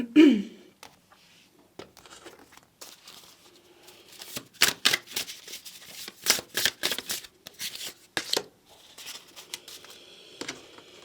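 Oracle cards being shuffled in a pick-a-card reading, a series of crisp riffling and flicking bursts at close range, clustered in the middle with brief pauses between shuffles.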